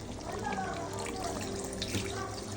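Water is poured into a pot of country chicken curry gravy, giving a soft, continuous splashing and trickling at a low level with some kitchen background.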